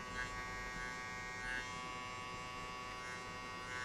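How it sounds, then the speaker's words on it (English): An electric hair clipper buzzes steadily and close while cutting hair during a fade, a constant, even hum throughout. "Now you close the clipper just halfway"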